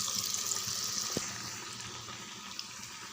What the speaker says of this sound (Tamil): பாருங்கள், எண்ணெய் நல்லா காஞ்சிடுது. வடையை நம்ம அப்படியே சேர்த்துடலாம்.